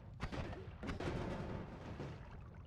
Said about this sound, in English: It just gives them a nice little explosion when they're dead